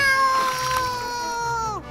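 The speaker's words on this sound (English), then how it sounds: "that rascally rat pushed the cat into the water." A cartoon cat lets out a loud, drawn-out yowl that bends downward and cuts off as a rat shoves it into a river, a single close wail on its own.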